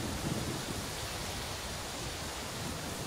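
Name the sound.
downpour of rain on rainforest canopy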